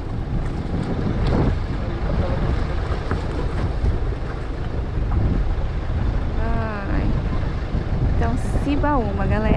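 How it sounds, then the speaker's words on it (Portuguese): An unpowered river ferry carrying a Troller 4x4 mini motorhome drifts across, with steady rushing wind and water noise close to the microphone. People talk and exclaim over it now and then. "Primeira vez de balsa sem motor."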